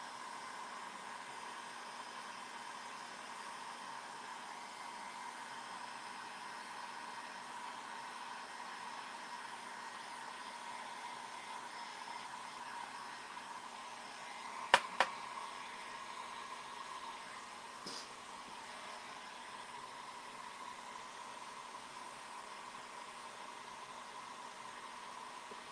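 Hair dryer blowing steadily for a craft project to dry work and loosen hot glue, a constant whooshing whine at moderate level with a couple of brief knocks midway and no talking.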